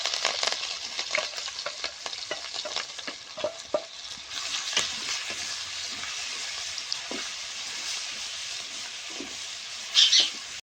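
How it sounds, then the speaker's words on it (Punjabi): Onions, green chilies, ginger and garlic fry together in spices, producing a soft, steady sizzle with occasional stirring taps and scrapes, fairly faint and without talk. "ਇਹਨਾਂ ਸਾਰੀਆਂ ਚੀਜ਼ਾਂ ਨੂੰ ਆਪਾਂ ਮਸਾਲੇ ਦੇ ਵਿੱਚ ਇਕੱਠਾ ਭੁੰਨ ਲਾਂਗੇ"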